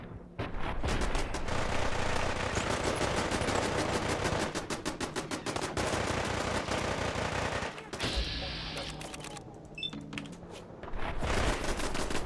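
Rapid automatic gunfire in Fallout 4, several weapons firing at once in dense, fast bursts that run continuously, break briefly, then resume loud and close.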